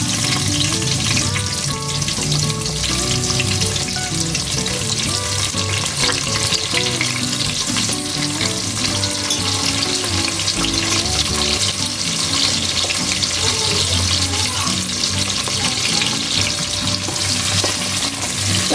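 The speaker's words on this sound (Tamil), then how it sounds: "இப்போ வெங்காயம் நல்லா பொன்னிறமாக வதக்கணும்" Sliced onions frying in oil and ghee with biryani masala, a loud dense sizzle that keeps going unbroken, with frequent stirring scrapes and no talking.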